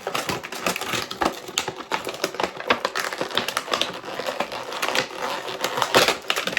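Scissors cutting and crinkling stiff plastic blister packaging on a Marvel Legends Dark Avengers Daken action figure, a dense run of close, rapid crackling and snipping sounds throughout.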